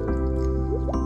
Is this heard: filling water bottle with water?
yes